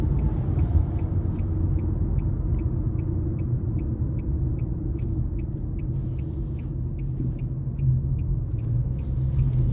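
Cabin of a 2025 Nissan Sentra S driving in eco mode: a steady low engine and road rumble continues throughout, with faint regular ticking above it and no talk.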